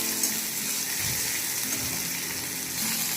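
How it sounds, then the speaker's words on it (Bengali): Onions frying in oil for dal give a steady, even sizzling hiss that holds at a constant level throughout, with no talking. "আমার পেঁয়াজগুলো ব্রাউন কালার ভাজা হয়ে গেছে।"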